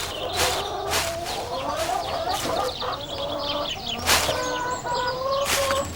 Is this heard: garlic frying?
no